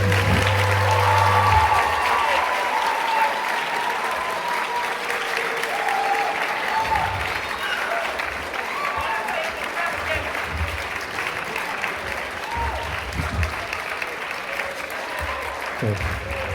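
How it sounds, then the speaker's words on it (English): A high school audience in an auditorium gives sustained, loud applause during a stage hypnosis show, the clapping steady and dense throughout with some crowd noise mixed in. "give them a nice big round of applause"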